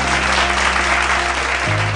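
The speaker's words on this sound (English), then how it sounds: "So let's give them a round of applause." A crowd at a business panel applauds steadily and loudly for a couple of seconds, a dense wash of clapping with no voices.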